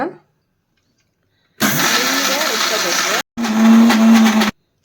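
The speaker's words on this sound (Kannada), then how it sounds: "ಸ್ವಲ್ಪ ಸ್ವಲ್ಪ ನೀರು ಹಾಕಿ ನುಣ್ಣಗೆ ರುಬ್ಕೋಬೇಕು ಈಗ ರುಬ್ಕೊಳ್ಳೋಣ" A mixer grinder grinding rice into a fine batter whirs loudly in two bursts, a harsh mechanical roar that stops, restarts with a deeper drone, then cuts off into silence.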